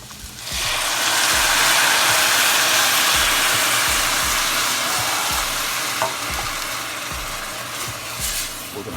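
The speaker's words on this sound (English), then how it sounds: "We're gonna cook this down till most of the wine is gone. It's gonna reduce." Wine cooking down and reducing in a pan for a burger recipe, a loud rushing sizzle that surges in under a second and holds steady, easing slightly toward the end with faint clicks.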